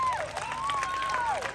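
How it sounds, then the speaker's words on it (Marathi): Audience applause at a Bhim Jayanti community event in Bopkhel featuring a Home Minister paithani game, a steady crowd clapping with a sliding whistle-like tone riding over it. "इथल्या वहिनींसाठी एकदा हात वरती करून जोरात टाळ्या वाजवा"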